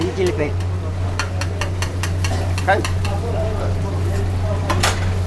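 Green chili paste fries in a pan for a chicken curry-leaf dish while a utensil scrapes and stirs in repeated sharp strokes over a steady sizzle, with a constant low hum underneath and voices talking.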